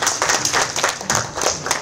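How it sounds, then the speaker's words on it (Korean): Audience at a Korean academic conference applauds to welcome a speaker, a brief burst of moderately loud, dense clapping with no voices over it. "오늘 박수로 좀 환영해 주시고"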